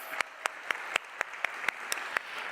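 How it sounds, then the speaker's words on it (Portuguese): A few people applauding family members at a business summit talk, sparse, distinct claps in a quick irregular rhythm, fairly quiet and close, with no talk over them. "Uma salva de palmas para eles."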